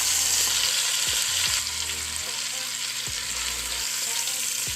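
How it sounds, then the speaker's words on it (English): Beef short ribs sear in hot grapeseed oil, a steady close sizzle and crackle running the whole time, with a few soft thumps of the meat or pan. "I'll be placing the ribs down so that we can get a really good sear on both sides"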